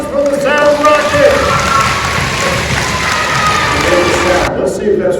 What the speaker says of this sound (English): A round of applause for the sound rocket.